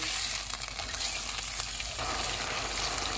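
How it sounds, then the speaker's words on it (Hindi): Chicken sizzling in oil in a pan as a cornflour mixture is added, a loud, steady, crackling fry with a few brief stirring scrapes. "इसमें कॉर्नफ्लोर वाला मिक्सचर डालेंगे और इसको ठीक होने तक पकाएंगे"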